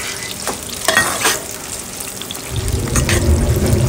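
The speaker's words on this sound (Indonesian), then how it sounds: "Ini tempenya kita goreng duluan." Tempeh slices fry in hot oil for sambal tempe, giving a steady, close sizzle that swells louder and denser toward the end, with a few light clinks of stirring.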